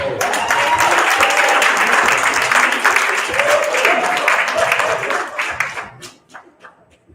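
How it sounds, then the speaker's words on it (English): Audience at a poetry slam festival claps and cheers in a dense burst of applause that holds strong and then thins out into scattered claps near the end, with some voices mixed in. "Y'all give us some applause."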